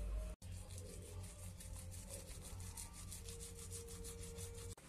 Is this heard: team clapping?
no